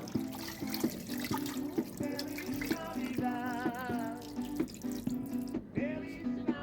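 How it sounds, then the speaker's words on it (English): Water poured into a cooking pot of egusi soup with sliced onions, a steady splashing pour running for several seconds alongside faint kitchen clatter, with no talking. "Right now I will be adding some water."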